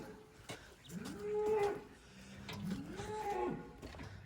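Cows on a Turkish farm moo in two long, low calls, one after the other, with faint farmyard background and no talk.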